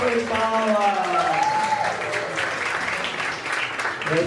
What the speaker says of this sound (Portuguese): Salve palmas!